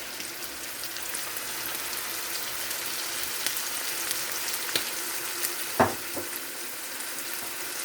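A pot of assorted vegetable stew with chicken breast, fennel seed, nutmeg and cinnamon bubbles and sizzles in a soft, steady hiss, with a single louder knock near the end and no voices.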